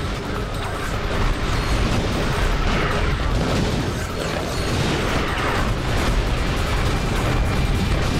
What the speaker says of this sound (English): Why are there nuclear explosions happening?